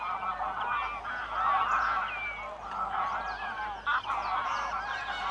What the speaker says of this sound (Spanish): Se reúnen aquí, como las varillas de un abanico prodigioso, familias y tribus de gansos nacidos en una amplísima región del norte de